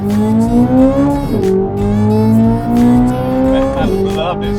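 A stock Corvette C8 Z06 exhaust accelerates hard, rising in pitch through two gear changes with brief dips between pulls; loud and close throughout.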